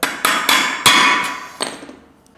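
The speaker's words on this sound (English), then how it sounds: "Punch here to make a pilot little mark there so I can drill them through." A hammer strikes a center punch on metal to mark drill holes: five sharp, ringing metallic taps at an irregular pace, close and loud, each decaying briefly.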